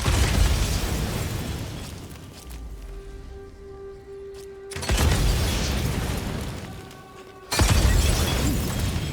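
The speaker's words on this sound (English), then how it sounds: "Let's use the incendiary bolts." Incendiary crossbow bolts explode in the video game Days Gone, with two loud bursts a few seconds apart, each followed by a sustained roaring rush and no speech.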